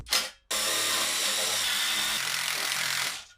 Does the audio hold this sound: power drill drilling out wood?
yes